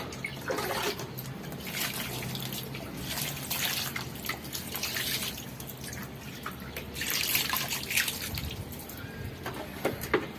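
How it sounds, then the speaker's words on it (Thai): Water poured onto a cracked balcony floor during a leak repair, a steady splashing and dripping wash that stays close and fairly even, swelling briefly near the end. "ใส่น้ำเข้าไป"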